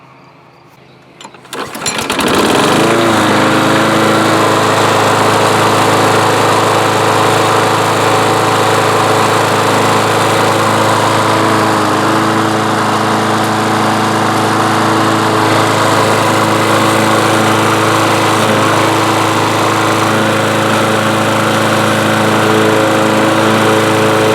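A Craftsman riding lawn mower engine cranks and catches after about two seconds of near silence, then runs steadily and loudly up close with a constant droning hum for the rest of the time.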